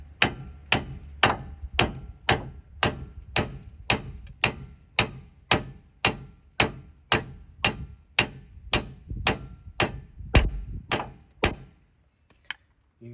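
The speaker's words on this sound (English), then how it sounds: "you're not going to hurt it beating on it or tapping the bolts." Steady series of about twenty sharp metal hammer blows striking the hub bearing bolts on a 4WD Chevy Silverado front hub, each impact ringing briefly, close and loud, with no talking.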